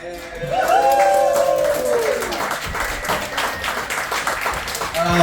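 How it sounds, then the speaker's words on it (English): Audience applause and cheering at a stand-up comedy show, loud and steady across the whole stretch, with a voice over the clapping early on. "Clap your hands."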